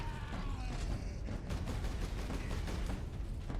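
Rapid gunfire in the Warhammer 40K shooter Space Marine, a dense continuous rattle of shots and impacts with heavy low rumble that stays steady and fairly faint throughout.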